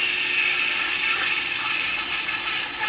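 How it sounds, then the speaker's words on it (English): A 2 1/8 inch hole saw cutting through the center of a plastic bucket lid held off a table edge, a loud continuous whirring grind with a steady motor tone, uninterrupted for the whole stretch. "2 1/8 hole saw that I mentioned before. Do it off the edge of the table here."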